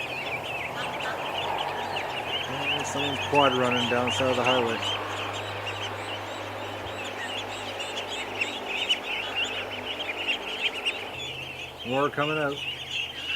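Young ducklings give immature, cracking quacks in short bursts in the open beside a highway, with steady background noise, while someone talks nearby.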